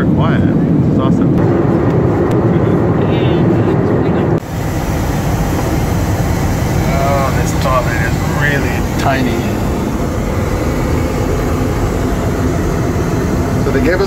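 Cabin of a Southwest Airlines Boeing 737 MAX 8 in flight, a steady loud broadband engine and airflow roar filling the space, with a person talking over it throughout.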